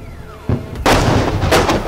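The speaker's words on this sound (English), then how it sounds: "A second rocket just hit the building right next to our hotel." A rocket strikes a building next door in a war zone: a sharp loud blast followed by a rumbling roar and further booming impacts, close by and with no voices.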